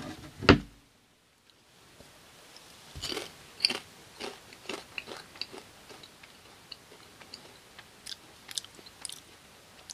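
Spicy curry potato chips crunched close up: one sharp bite, then a run of crisp, irregular chewing crackles, quiet and alone.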